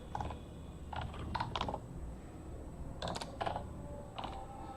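Faint bursts of typing on a computer keyboard during a web search, short clusters of quick key taps separated by pauses, quiet and alone.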